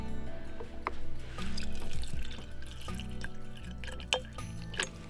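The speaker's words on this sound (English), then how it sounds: "Oh, we gotta put water in first." Water pours and drips into a hydrogen water bottle at close range, a soft liquid trickle with a few sharp drips and clinks over a low steady hum.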